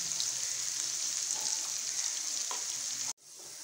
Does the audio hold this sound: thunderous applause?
no